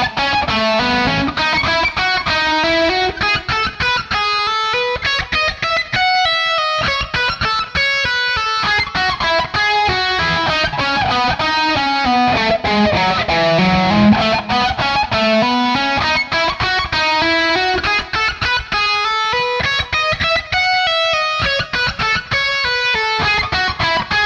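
A distorted electric guitar plays a fast picked lick with pull-offs, repeated in rapid, even runs that climb and fall in pitch, loud and continuous with no voice.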